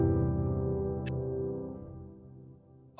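Sustained chord with a narrow low-end voicing stacked with thirds and fifths, sounding thick and unbalanced as it rings alone and slowly fades.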